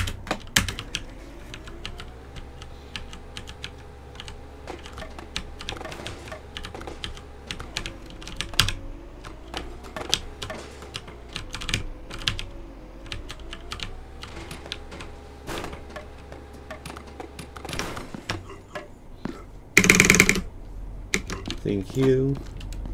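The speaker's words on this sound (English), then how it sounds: "this is my new keyboard, so I apologize if it's louder than it was before." Rapid clicking keystrokes on a new computer keyboard, steady and close, running throughout with a brief louder burst near the end.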